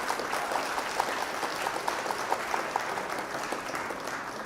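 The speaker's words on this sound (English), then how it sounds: "Let's go and give a round of applause." Steady applause from a crowd, continuous clapping at moderate volume with no voices over it.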